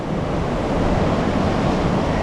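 Ocean surf rolls in at a Florida beach as a loud, constant wash of breaking waves with a rough, windy roar and no talk.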